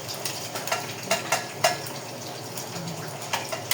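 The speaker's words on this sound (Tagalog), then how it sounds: "Tapos sa kanya ipiprito." Food fries in a pan at a home breakfast prep, a steady sizzle broken by sharp utensil clinks and stirring scrapes, fairly close and alone without voices.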